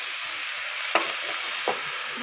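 Vegetables fry steadily in a hot pan for an Assamese pasla (banana stem) dish, giving a constant bright sizzle with two brief scraping stirs, close and without talk.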